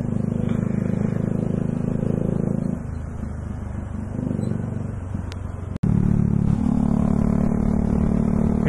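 A loud Bajaj Dominar 400 with an Akrapovic exhaust drones inside a tunnel, drops briefly, then blips back up sharply as the rider downshifts, strong exhaust rumble throughout.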